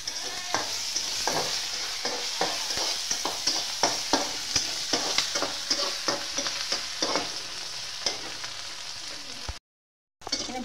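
Onions and three broken dried chillies fry in a pan, a steady close sizzle broken by repeated stirring scrapes and clicks, with a short silent gap near the end.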